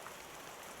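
Steady rain in a Shadowverse game scene, a dense even hiss of falling drops that stays constant and soft throughout with no voices over it.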